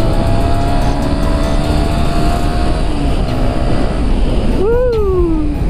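A two-stroke motorcycle engine idles with a steady, buzzing drone, then near the end gives one sharp rev that swoops up and falls back, loud and close.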